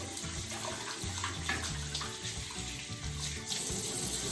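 Tap water runs steadily into a sink while hands are washed during kitchen prep for cooking hot dogs, a continuous close splashing stream with no voices.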